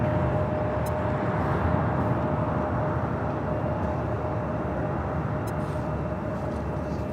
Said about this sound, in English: This is Southwest Airlines 3603 taking off to Dallas Love Field on a